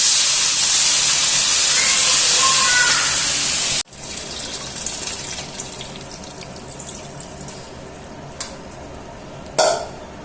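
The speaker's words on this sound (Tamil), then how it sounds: "பாருங்க புளி ஊத்துறோம் நல்லா கொதிச்சிருச்சு" Tamarind water pours into a boiling pot of curry in a loud, steady gushing hiss for about four seconds, then cuts off, leaving quieter bubbling and a few faint clinks.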